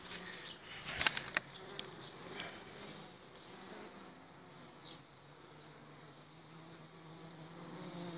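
Buckfast B21 honey bees buzz around a caged queen at a hive, a steady close hum with a sharp louder buzz as one bee passes near early on, otherwise a continuous drone.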